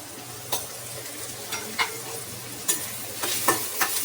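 Ridge gourd cooking in a pan with turmeric and salt gives a steady soft sizzle, broken by several sharp stirring scrapes and clatters spaced through the few seconds, with no talk.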